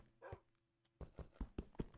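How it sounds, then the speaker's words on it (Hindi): A dog in the Minecraft video game barks in a quick series of short, sharp yips, about five in a row, following a softer faint whimper, close and alone with no talking. "कुत्ता है ऊपर, कुत्ता है।"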